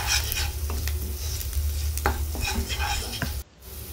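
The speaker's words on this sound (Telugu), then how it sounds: "ఇవన్నీ వేసిన తర్వాత ఉల్లిపాయల్ని మళ్ళీ ఇంకొంచెం ఫ్రై అయ్యేలాగా ఫ్రై చేసుకోండి" Onions fry and sizzle loudly in a pan and are stirred now and then with scraping, clacking strokes. A steady hiss runs throughout and thins out near the end. No one speaks.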